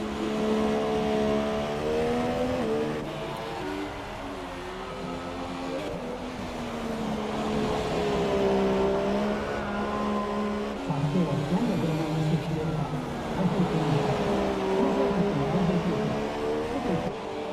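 In a racing video game, Bottas's race car engine wails at high pitch through a flying lap at Japan, rising and dropping with gear changes and corners, loud and continuous, with a commentator's voice faint beneath.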